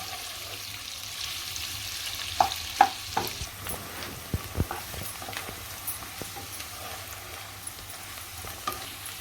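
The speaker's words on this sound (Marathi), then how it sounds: "परतून घेऊया आपण चांगलं कांदा" Onion sautéing in a pan for prawn rice, with a low steady sizzle broken by several sharp clicks and scrapes of stirring, moderately close, no voices.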